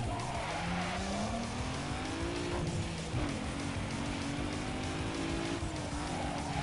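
A race car engine roars through a drag race in Need for Speed Underground 2, its pitch climbing through the gears, with loud continuous engine noise and tire squeal throughout.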